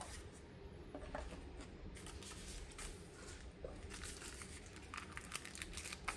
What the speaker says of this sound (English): Boy, this plastic is tough to open here.